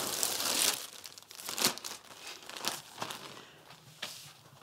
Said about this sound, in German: Ich sortiere die Tüten alle nach Farben